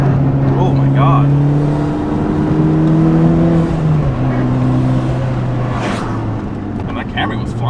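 Toyota Camry speeding past a moving car, its engine roar loud and close over steady road and cabin rumble, with a brief rising whoosh as it goes by.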